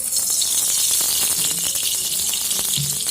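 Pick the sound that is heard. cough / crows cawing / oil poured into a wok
oil poured into a wok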